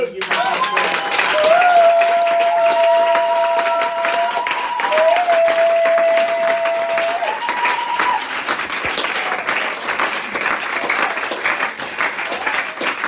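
Congregation applause and acclamation in a church service, sustained crowd clapping with cheering voices, loud and continuous, with held tones sounding underneath for the first half.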